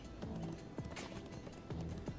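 Hooves clip-clop in the video game Nobody Saves the World, a rhythmic pattern of hollow knocks repeating in a steady gait, moderately quiet over game background sound.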